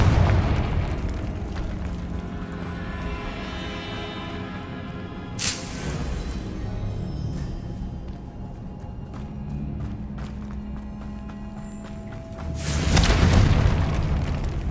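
Confringo fire spell in Hogwarts Legacy on PC, a loud booming explosion with a sharp burst near the middle and another heavy blast toward the end over a continuous rumbling game soundscape, with no talking.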